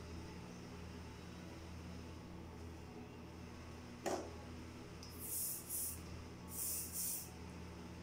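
Hairspray sprayed onto a styled hairdo, two or three short hissing bursts partway through against a steady background hum.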